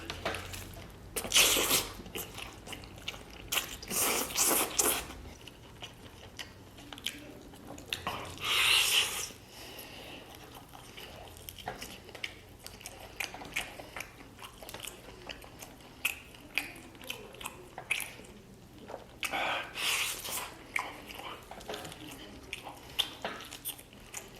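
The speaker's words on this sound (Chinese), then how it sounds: "相对来说比较耐嚼啊，嚼得我腮帮子都累" A roasted turkey leg, dry and tough, chewed close to the mouth; bursts of wet, sticky chewing and biting recur in clusters with quiet pauses, with no talk.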